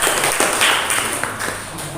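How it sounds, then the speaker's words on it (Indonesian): Classroom applause for a student group after their presentation, a steady wash of many hands clapping at close range, filling the full two seconds without a break. "kita beri tepuk tangan untuk kelompok 4"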